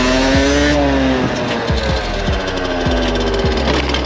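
Derbi Senda motorcycle engine revving hard as the rider tries a stoppie, a loud buzzing two-stroke whine that climbs in pitch and drops off repeatedly in sharp steps, close and continuous.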